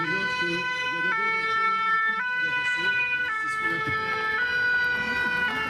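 A fire brigade command vehicle passes at a fire station open day in Wavre, its two-tone siren alternating in steady steps of about a second, loud and continuous over background crowd and engine noise.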